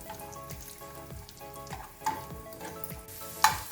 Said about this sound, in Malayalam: ഇതിലൂടെ ഒന്ന് ഫ്രൈ ചെയ്തെടുക്കാം.